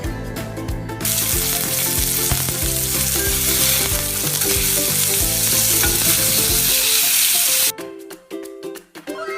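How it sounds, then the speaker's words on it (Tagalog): Breaded potato mojos frying in hot oil, a loud, steady sizzle with occasional stirring clatter, continuing close up for most of the stretch before cutting off near the end. "Ipiprito na natin siya"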